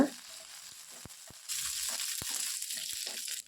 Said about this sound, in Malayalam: അതിലേക്ക് കുറച്ച് കറിവേപ്പില കൂടിയിട്ട് ജസ്റ്റ് ഒന്ന് മൂപ്പിക്കുക